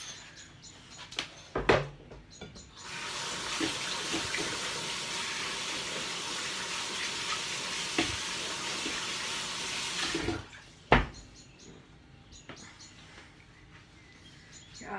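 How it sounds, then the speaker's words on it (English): Tap water runs steadily for about seven seconds while hands are washed after handling raw meat during homemade sausage preparation, with a few knocks and clicks before and after. "And now I'm going to wash that hand because it's been dealing with raw meat"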